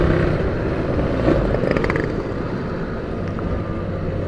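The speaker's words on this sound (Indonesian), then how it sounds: "Jadi ini gasnya kombinasi ya, nggak bener-bener saya siksa motornya" A motorcycle engine runs at a moderate, steady throttle on a road test, its close rough drone holding fairly even with a brief swell, and no one speaking.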